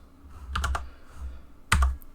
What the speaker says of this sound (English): type in your address